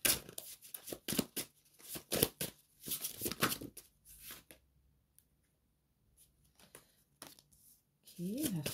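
Tarot cards being shuffled and drawn for a reading, a run of close crisp riffling and slapping card sounds that trails off into quiet handling, with a voice talking over parts of it.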